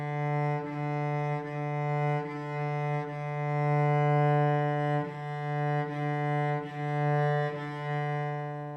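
Beginner cello warm-up on one sustained note, a long whole-bow stroke followed by groups of short bow strokes, steady rhythmic pulses of the bow change, close and alone.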